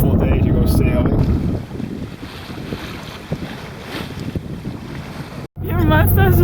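A sailboat under way on open water during Bayfield Race Week. Strong wind buffets the microphone over a continuous wash of water, then cuts out briefly before returning loudly, with faint voices near the end.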